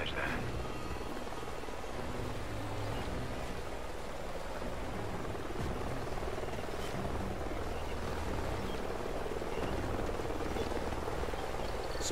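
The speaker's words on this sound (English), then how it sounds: "Sounds like a chopper's up ahead of us." Helicopter flying nearby over canyon terrain in a Call of Duty war game, a continuous broad rotor rumble and wash holding steady and fairly faint throughout, with no talk over it.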